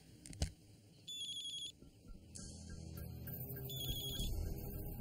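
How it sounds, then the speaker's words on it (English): A phone rings indoors in a tense television drama scene, giving several short electronic ringtone bursts that cut in and out over a low background rumble and scattered noises, with no voices. "Walt, phone."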